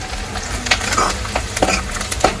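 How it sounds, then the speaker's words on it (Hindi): Onions frying in a pan for an eggplant bharta, a steady loud sizzle broken by a few scraping stirs and light clicks of a utensil against the pan, with no talking. "यहाँ पर आप लोग देख सकते हैं कांदा कितने अच्छे से मतलब भून गए हैं"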